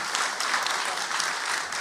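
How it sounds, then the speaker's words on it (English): An audience at a mayoral debate in Key Biscayne applauds the panelists, a steady, dense wash of clapping that holds at an even level throughout with no voices breaking through. "I'd also like a round of applause for our panelists, Tony, Jessica, and Alex."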